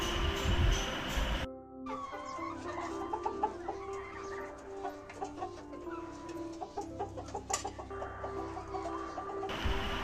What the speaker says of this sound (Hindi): मुर्गी की आवाज़ को कुड़कुड़ाना कहते हैं।